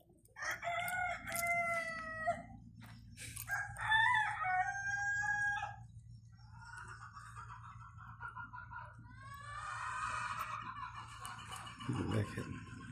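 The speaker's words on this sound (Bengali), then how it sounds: "দেখেন কি মুরগির দৃশ্য, অনেক মুরগি।" A flock of chickens with roosters crowing repeatedly, several long cock-a-doodle-doo calls in succession with clucking between, close and clear over a steady low hum, kept indoors in a workshop.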